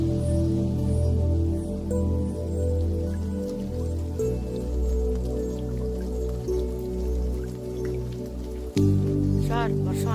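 Heavy rain falls on a football ground, a constant thick hiss with dripping and splashing water, loud and unbroken throughout.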